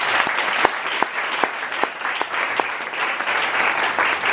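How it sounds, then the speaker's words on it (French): A church congregation at a Sunday service claps in sustained, dense applause with sharp individual claps standing out, holding steady throughout. "Est-ce qu'on peut bénir Jésus par les acclamations?"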